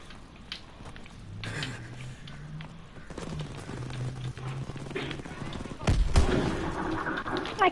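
Gunfire in a World War II shooter game, scattered shots and bursts through a busy battle mix that grows louder near the end, under ongoing voice chat.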